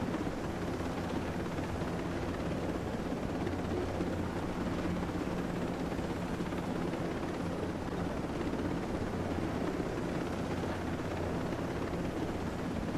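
Helicopter flying in the video game Ghost Recon Breakpoint, a steady, loud rotor roar with dense rumbling that holds unbroken throughout, no voices over it.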